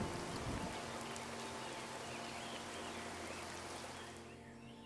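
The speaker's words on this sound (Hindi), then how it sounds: "आसमान में बिजली की गड़गड़ाहट के साथ तेज बारिश शुरू हो जाती है।" Heavy rain pours down, a dense, steady hiss of falling drops holding at a constant level before thinning slightly at the end.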